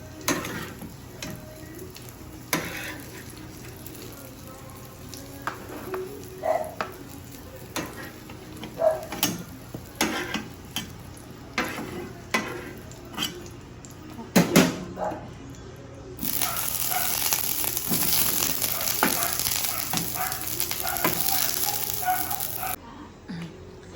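Eggplant frying in a pan, with oil crackling and popping in scattered bursts, then settling into a steady loud sizzle toward the end, heard close up.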